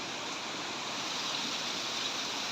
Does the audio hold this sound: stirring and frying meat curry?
no